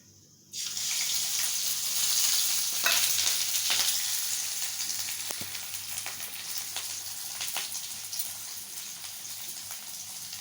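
Chopped onion, ginger, garlic and chilli hit hot mustard oil with a sudden loud sizzle, then keep frying in a steady crackling hiss. Occasional light stirring clicks come through, close up and without any talk.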